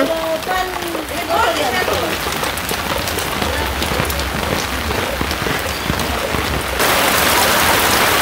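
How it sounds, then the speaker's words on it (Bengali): Heavy rain pours steadily outside a village home, a dense loud hiss on surfaces that swells louder near the end, with a voice talking over it at the start. "প্রচুর পরিমাণে বৃষ্টি নামছে।"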